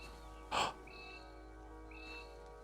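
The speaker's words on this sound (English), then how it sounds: "I can hear a bird." A bird in a hiking video game gives one short, loud, crow-like caw, then two thin whistled tones follow faintly over a quiet, steady game ambience.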